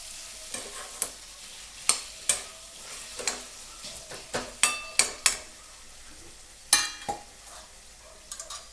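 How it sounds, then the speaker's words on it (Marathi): Vegetable curry cooking in oil in a pan, a steady sizzle with repeated sharp scrapes and clinks of a stirring spoon against the pan, close and fairly loud. "बघा मस्त शिजत आहे भाजी आणि त्याला तेल सुटलं आहे छान"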